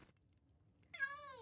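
A video-game cat gives a soft, clear meow after near silence, a single drawn-out call over faint low background hum.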